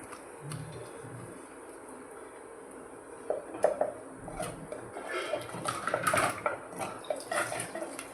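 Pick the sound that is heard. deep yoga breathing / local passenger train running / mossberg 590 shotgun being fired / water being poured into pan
water being poured into pan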